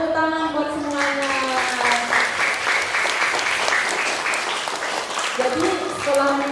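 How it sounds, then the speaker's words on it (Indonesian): Children and adults at a Buddhist Sunday school Kathina celebration burst into loud, sustained group applause. A voice speaks or sings at the start and again as the clapping fades near the end. "Tepuk tangan buat semuanya."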